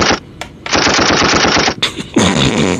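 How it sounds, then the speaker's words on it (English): Rapid bursts of gunfire rattle in quick succession, loud and close, with a short pause before another volley rings out. "Give me some gunshots."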